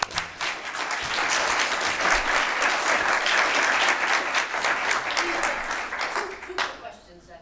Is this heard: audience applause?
yes